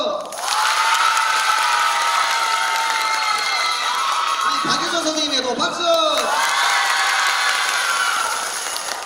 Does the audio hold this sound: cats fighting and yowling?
no